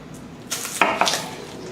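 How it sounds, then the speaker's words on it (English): A Damascus chef knife cutting a very large onion on a board, a few crisp close taps and slices in quick succession, loud and unaccompanied. "the first thing we're going to do is a diced onion here"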